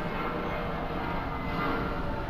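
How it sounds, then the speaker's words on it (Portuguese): A fixed-wing airplane drones steadily overhead in Shadow of the Colossus, a continuous engine rumble at even loudness with a faint high whine above it, no voices. "E o avião aí também"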